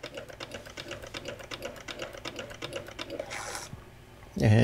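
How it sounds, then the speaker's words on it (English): A Sharp PC-1500 pocket computer's small printer mechanism chatters in rapid, even clicks on power-up for a few seconds, then a brief whir as paper feeds and a louder sound at the end. "You hear the printer jog."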